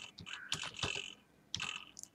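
Keyboard keys clicking in a few short, sharp bursts with pauses between them, fairly quiet and close, entering a web address into a search bar, with no voices.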